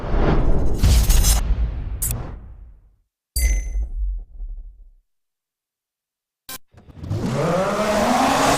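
The Audi Sport Quattro Group B rally car with its 5-cylinder engine in DiRT 3, heard in loud bursts of revving and sharp gear-change cuts separated by silent gaps, ending with a rising, close engine scream.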